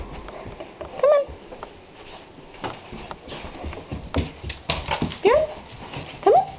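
A puppy named Bjorn gives a few short, high whimpering yips at intervals over a noisy indoor background, with soft footsteps and clatter around it.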